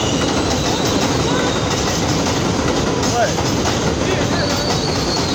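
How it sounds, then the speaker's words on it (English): A New York City subway 1 train on the South Ferry line, heard at 137th Street station, rumbles steadily and loudly with a continuous clatter of wheels on rails throughout, and a voice briefly speaks over it. "We got a South Ferry bound 1 train."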